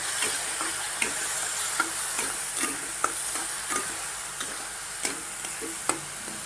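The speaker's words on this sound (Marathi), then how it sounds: "तर आता हे सगळं मिक्स करूया" A spoon stirs and scrapes through sizzling egg keema masala in a frying pan, with steady, regular scraping strokes over a constant close frying hiss.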